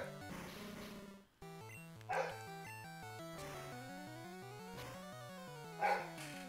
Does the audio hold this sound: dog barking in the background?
yes